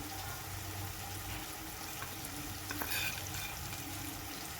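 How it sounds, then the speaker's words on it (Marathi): A spoon stirs biryani masala into cooked tomatoes in a home kitchen pan, with a soft, steady sizzle and a few scraping clinks up close, and no voices. "दोन चमच मिक्स करून घेते मी मसाला"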